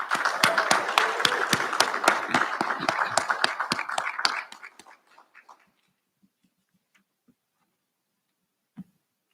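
Audience at a school recognition ceremony clapping in a dense burst of applause for about four seconds, then thinning to a few scattered claps before silence, with one faint bump near the end.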